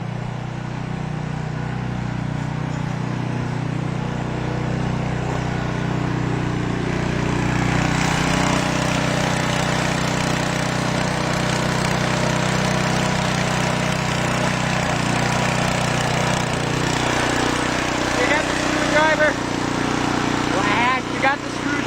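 A Massey Ferguson lawn tractor engine runs steadily throughout, a low continuous idle with harmonic drone, getting somewhat louder partway through, with background voices talking over it.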